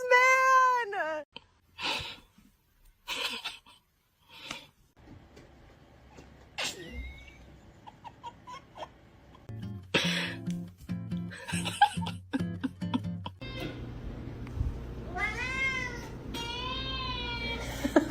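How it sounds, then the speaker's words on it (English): A cat meows in bursts, with a run of clear rising-and-falling meows at the beginning and another close, loud series near the end, separated by assorted thumps and household noises. "It's a cat, Grandma."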